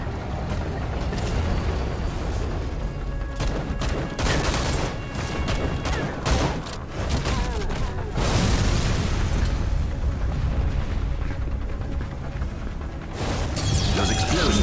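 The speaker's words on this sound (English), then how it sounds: "Those explosions have caused flammable gas leaks." Dense, continuous explosions and booming bursts in the video game Spacelords, loud rapid blasts overlapping with gunfire-like crackle throughout.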